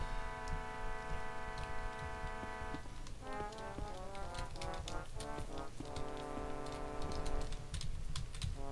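Basement music from the PlayStation director's cut of Resident Evil, a brassy trumpet score of sustained, droning chords that shift a few times, with crisp clicking ticks scattered over it throughout.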